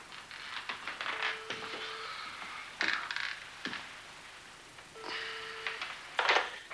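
An old telephone is dialed with bursts of clicking and whirring from the dial, broken by two short steady tones and pauses, all fairly close in a quiet room.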